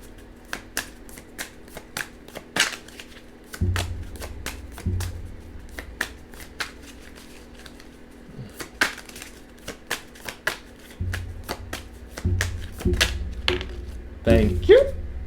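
Tarot cards are shuffled by hand nearby, a long run of crisp rapid riffles and slaps with a few heavier taps, under a soft low voice.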